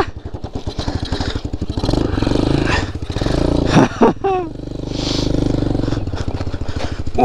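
A motorcycle engine revving hard and unevenly while the bike drifts, loud and close, with rising and falling pitch, a brief whine and scraping clatter midway, and a voice exclaiming faintly under the noise.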